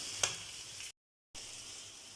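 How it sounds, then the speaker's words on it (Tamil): A steady sizzle of vegetables, including beetroot, frying in a pan, briefly cut to silence, then resuming at the same low, even hiss. "நல்லா ஃப்ரை ஆகணும், நல்லா ஃப்ரை ஆகட்டும்."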